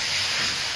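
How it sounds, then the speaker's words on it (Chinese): Bullfrog pieces stir-fried with chili bean paste in a wok over medium heat give off a loud, steady sizzling hiss, close and alone. "豆瓣酱炒香之后将滑好的牛蛙下锅，然后开中火推炒30秒"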